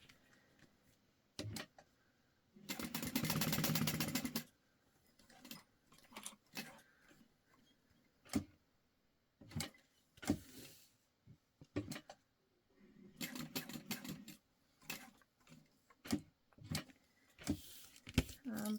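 A sewing machine stitching a clear vinyl pencil pouch, running in short bursts of quick ticking stitches broken by pauses, one longer steady run near the start, heard close and fairly quiet.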